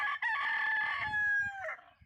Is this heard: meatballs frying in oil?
no